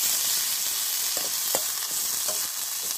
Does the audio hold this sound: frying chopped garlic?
yes